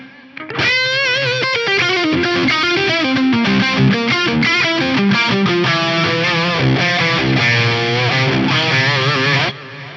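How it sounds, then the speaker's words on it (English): An electric guitar lead with light distortion rings through a short, small echo-room reverb at stock settings, with slightly shorter pre-delay and modest mix; a continuous melodic run of sustained, bending notes plays loud and close, with no talking. "Echo room, which I'll bring up right now. This has a shorter time and a smaller size."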